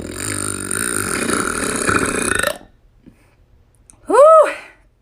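A person gives one loud, drawn-out burp up close, then after about a second of near-silence lets out a second short, sharp burp.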